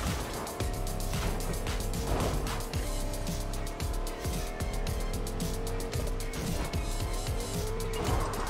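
A car driven fast in a video game, its engine roaring continuously and loud with tires squealing and skidding through turns, a dense unbroken driving sound with no talking.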